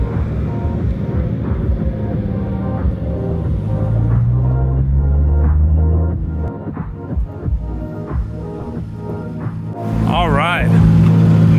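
Nissan Skyline R32 GTR engine running on a drive, a steady low throbbing drone with shifting pitch and a rising whine near the end, under someone talking briefly.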